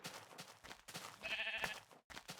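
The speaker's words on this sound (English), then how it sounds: "as you see, we have 2 sheep there." Sheep bleat in a video game: a couple of short wavering bleats stand out over rapid game footstep and movement noise, fairly quiet overall.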